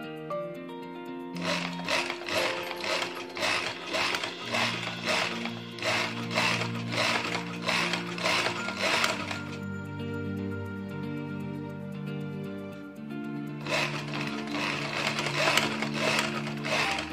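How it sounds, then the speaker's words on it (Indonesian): Sewing machine stitching along the edge of a Japanese zipper about 3 mm from the zipper line while sewing an A-line skirt; rapid, steady mechanical chattering in two bursts with a pause between, over a constant motor hum. "sekarang kita jahit di tepian kira-kira 3 mili dari garis sletingnya."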